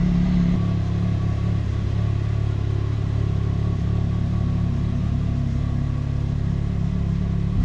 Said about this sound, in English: No need to rev the car, just let it idle.